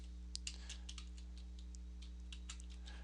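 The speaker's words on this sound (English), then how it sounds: "if we would type conda" Computer keyboard keys are tapped in a quick, irregular run of light clicks while a command is entered, set over a steady mains hum, with no voices.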